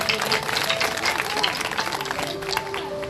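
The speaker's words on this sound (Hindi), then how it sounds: "जोरदार तालियां परमेश्वर के बच्चे।" A church congregation bursts into loud, sustained applause at a Sunday sermon, the dense clapping filling the room evenly throughout, with some voices mixed in.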